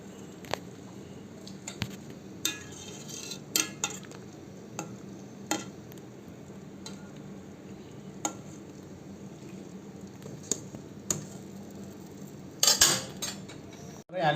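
A spoon skims foam off a pot of simmering Maldivian tuna fish soup, making intermittent close clinks and scrapes against the pot over a soft, steady bubbling.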